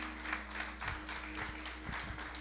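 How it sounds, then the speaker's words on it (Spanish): Church congregation at a Sunday service applauds first-time visitors, a moderate, steady patter of clapping over a low constant hum, with a few heavier claps standing out. "Vamos a dar un fuerte aplauso."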